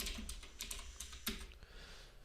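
Quiet computer keyboard typing, a quick irregular run of soft clicking keystrokes with a few short pauses, close and faint, no voices.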